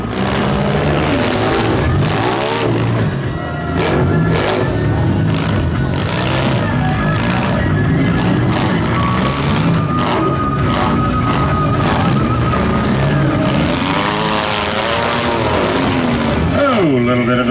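Several demolition derby car engines roar and rev loudly and continuously, with revving rising and falling as the cars race and grind close by; voices may be faintly mixed in.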